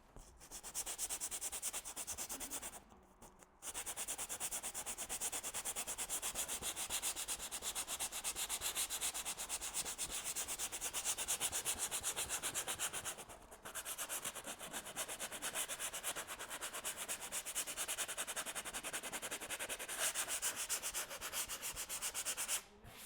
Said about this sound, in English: And then trusted sandpaper.